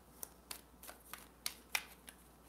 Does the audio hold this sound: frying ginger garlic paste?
no